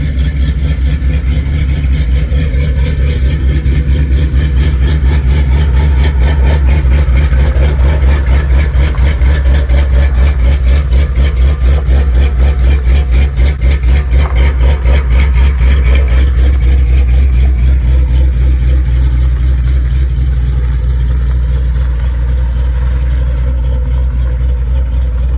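A Chevrolet C10 truck with a 5.3 V8, a stage 3 BTR cam and a 4L60 transmission idles loud and close, with a choppy, lumpy rhythm that pulses steadily for the whole stretch.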